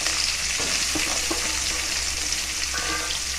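Mustard and other tempering seeds crackle in hot oil along with frying onions for a bitter gourd curry, giving a bright, steady sizzle with scattered small pops and a few stirring scrapes, close up and with no talking.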